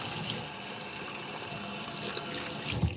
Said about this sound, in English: Sorry if the water's a bit loud.